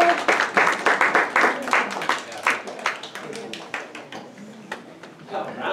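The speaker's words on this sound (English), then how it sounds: "Round of applause" An adult Bible class gives a round of applause, a burst of brisk, close claps that gradually thins into scattered hand claps with a voice speaking over it.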